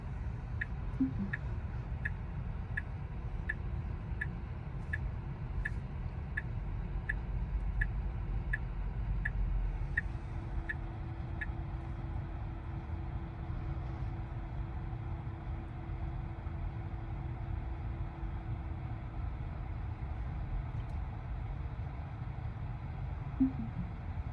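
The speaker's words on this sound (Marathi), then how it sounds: "स्टार्ट म्हणलं की ऑटोमॅटिक कार आपली रिव्हर्समध्ये पार्क होईल" A Tesla Model Y parking itself in reverse, heard from inside the cabin as quiet, regular indicator-like ticks and a faint electric hum, with soft chimes near the start and end and no voices.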